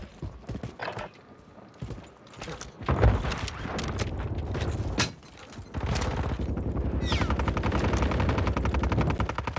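Rapid video game gunfire crackles in loud bursts that start after a few scattered shots and build into sustained, dense automatic fire through the second half.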